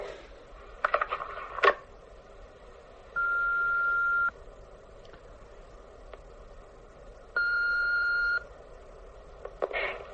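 Telephone being dialed: a few quick clicks, then two long steady electronic tones about a second each, separated by a quiet pause, fairly faint against a hushed room.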